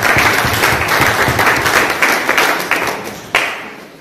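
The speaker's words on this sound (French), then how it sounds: "En tout cas, un grand applaudissement pour ces héros nationaux." An audience claps for national heroes, a dense burst of applause that fades gradually, with one sharp clap standing out near the end.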